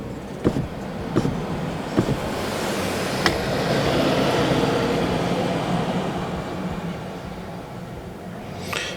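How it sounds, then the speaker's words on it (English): A car's power window cycling as the driver's switch is pressed, a sustained motor whir rising and falling with several sharp clicks and thumps early on, close and fairly loud. "we do the driver's window switch up 5 times"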